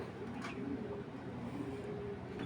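Racing pigeons of a foreign bloodline, including a short-bodied bird with nine races behind it, coo in soft low repeated calls from a loft, faint against a steady background hum.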